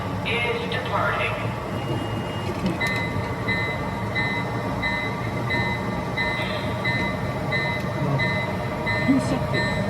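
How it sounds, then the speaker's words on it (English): A Santa Fe Super Chief model train pulls out on a home layout, rolling with a low rumble while repeated electronic beeps sound over it and a voice speaks briefly. "Ladies and gentlemen, the Super Chief is departing."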